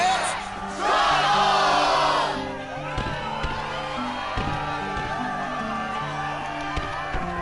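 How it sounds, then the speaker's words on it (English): Crowd cheering and whooping in a Kingdom Hearts 2 video game arena, a loud swell of voices in the first two seconds that fades into a quieter, steady crowd murmur under game music. "Yes, the crowd is fired up, so you know what comes next."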